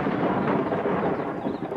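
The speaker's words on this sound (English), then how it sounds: "Thunderstorms." Thunder from a summer thunderstorm over the Drakensberg mountains of South Africa, a loud, continuous rumbling roll with no other sounds.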